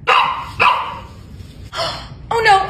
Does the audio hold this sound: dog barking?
yes